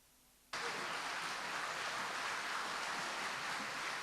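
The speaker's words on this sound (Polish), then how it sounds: "wielkie brawa." A hall audience bursts into sustained, dense applause for a folk song and dance ensemble from Kielce and its band, starting abruptly after a brief quiet and holding steady and loud to the end.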